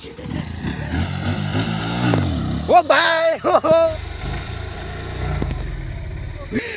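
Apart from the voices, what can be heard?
new motorcycle engine revving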